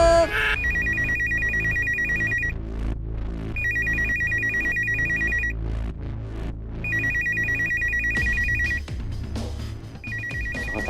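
A telephone rings in repeated bursts, about four rings, during an Indonesian TV drama scene. It sounds fairly close and clear over steady background music and low room sound.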